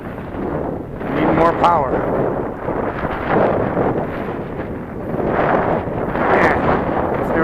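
Strong, gusty wind buffets the microphone during a very windy maiden flight of a FlyZone Cessna Corvalis 350 RC plane, a loud, constant rumble under someone speaking.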